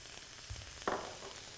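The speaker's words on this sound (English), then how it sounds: "browning some hamburger with some onion" Hamburger meat and onion brown in a pan, with a steady low sizzle and a brief stirring scrape partway through.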